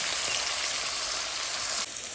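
Onions sizzling in hot oil with garlic, mustard seeds and cumin in a pan, a steady dense frying crackle close up that drops slightly at the very end.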